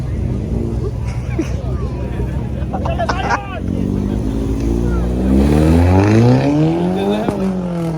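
A turbocharged car revs during burnouts at the annual Spartanburg cruise-in car meet, its engine note climbing in a loud, rising sweep after a rumbling idle, with crowd murmur around it.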